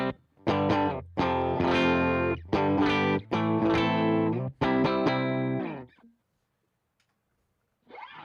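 Electric guitar played through an amp modeler on a clean tone, several ringing strummed chords in short bursts separated by brief gaps, then fading to near silence before a final note.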